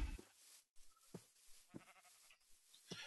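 Sheep bleating in the Minecraft video game: several short separate bleats spaced across a quiet game background, moderately clear and with no talking over them.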